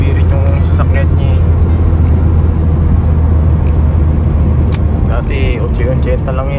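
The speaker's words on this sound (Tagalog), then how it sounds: "Binibirit yung sasakyan niya." A car engine drones loud and close with a steady low roar, hard-driven on a road at night, with people talking over it.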